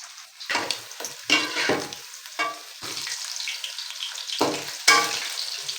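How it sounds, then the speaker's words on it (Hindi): Chicken pieces frying in a pan, a second batch in oil, with bursts of loud crackling sizzle and stirring scrapes recurring through the clip, close and with no talk. "जैसे कि पहले फ्राई किया सेम उसी तरह फ्राई कर देंगे"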